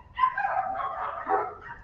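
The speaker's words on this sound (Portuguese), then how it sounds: "Esses cachorros estão daqui de uma rua que passa aqui atrás do prédio." Dogs bark in a street behind an apartment building, a muffled, distant run of overlapping barks and yips heard through walls, with no talking over them.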